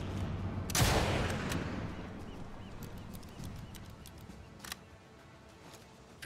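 A single sharp, loud revolver shot in the video game Sniper Elite 5, with a long echoing tail, followed by a quieter tick or click a few seconds later.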